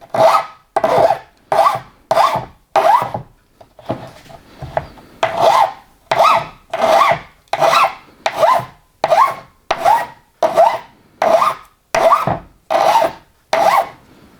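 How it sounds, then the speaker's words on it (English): Cut ends of aluminium bench track being filed by hand, with about fifteen steady, evenly spaced rasping strokes close up and one brief pause early on. "Now, as I said, you don't have to do anything with this, just file it."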